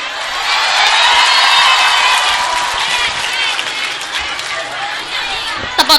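Audience applause and cheering at an Islamic sermon with children present, a dense, steady clapping crowd that stays loud throughout, a few whoops mixed in, ending with a couple of sharp claps.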